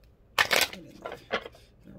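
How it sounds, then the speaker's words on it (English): Tarot cards being shuffled by hand, a quick burst of riffling and flicking followed by two shorter softer shuffles, close and fairly quiet with no talk. "I'm going to give it a good shuffle."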